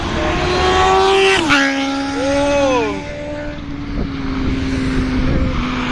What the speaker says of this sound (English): So that one s1000rr flyby.